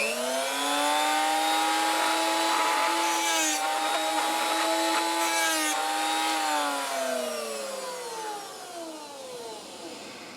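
A Drill Doctor sharpener grinds the point of a worn drill bit, a steady high whirring grind with a rising and falling pitch that fades out near the end, heard up close with no talking.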